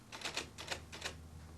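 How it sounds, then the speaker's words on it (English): A manual typewriter from 1978 is struck slowly with a person's feet, producing about nine close, crisp clacks in small uneven clusters over a faint steady hum. "His typing may be slow, but then typewriters weren't designed for feet."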